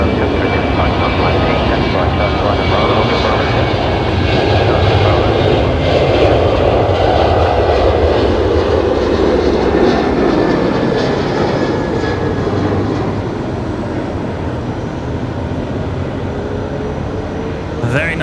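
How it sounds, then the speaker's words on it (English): A Qantas Boeing 737-800 jet takes off at Brisbane Airport at night with a loud, continuous engine roar that swells and then slowly fades as it climbs away. "Qantas 941 heading all the way across the country tonight to Perth. The 737-800."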